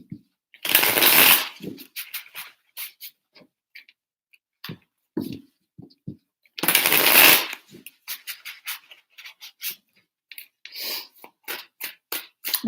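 Tarot cards are riffled in two loud close shuffles, with soft taps, flicks and card handling in between.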